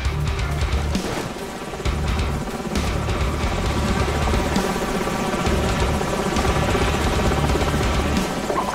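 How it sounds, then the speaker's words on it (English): A helicopter's rotor thumps and engine drone continuously and loudly in the video game Call of Duty 4: Modern Warfare, with some faint background clatter but no speech. "Enemy helicopters."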